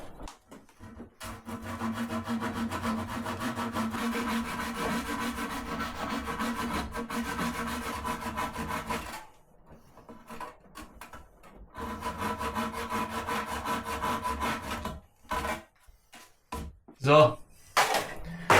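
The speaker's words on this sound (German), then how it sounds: "Lässt sich natürlich so nicht so top sägen, weil das Brett federt halt." Hand saw cutting through a wooden tree slice on a springy board, long rhythmic rasping strokes with a pause midway, then short choppy cuts and knocks toward the end.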